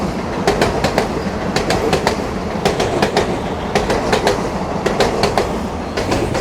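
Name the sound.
Parshuram Express train passing alongside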